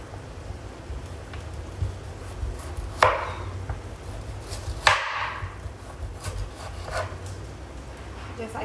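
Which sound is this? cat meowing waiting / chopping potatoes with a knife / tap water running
chopping potatoes with a knife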